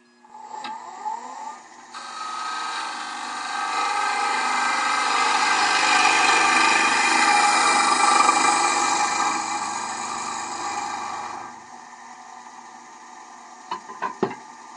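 A traditional grind gouge cuts inside a turned wooden bowl on a running lathe, making a loud, sustained whirring scrape that builds, holds and then fades, followed by a few sharp knocks at the end.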